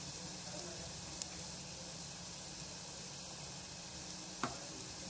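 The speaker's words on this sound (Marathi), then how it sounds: "आता आपण याला तेलामध्ये चांगली याला फ्राय करून घेऊया" Green chillies and turmeric fry in oil, making a faint, even sizzle with a couple of light clicks from a utensil, steady and quiet throughout.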